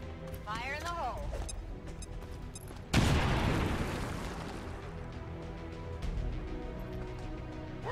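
An explosive charge detonates in XCOM 2, a sudden loud blast that decays into a long crumbling rumble of debris, preceded by game chatter and effects.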